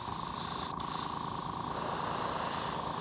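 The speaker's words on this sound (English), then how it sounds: "a good dark red transparent color that I'm gonna spray over this red" Aerosol can spraying a dark red transparent coat over red paint on a Ghostbusters PKE Meter prop, a steady close hiss running unbroken with a momentary break near the start.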